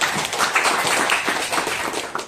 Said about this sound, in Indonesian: Untuk kelompok ini kita beri tepuk tangan.